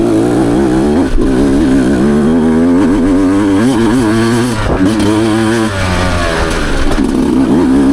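A 2023 Beta Xtrainer dirt bike engine climbs a hill, loud and close, its two-stroke drone rising and falling in pitch with throttle changes and no break.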